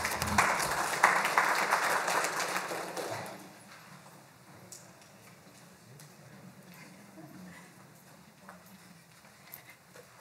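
An indoor audience at a county family services event claps after a speaker, a brief burst of applause that fades after a few seconds into quiet room noise.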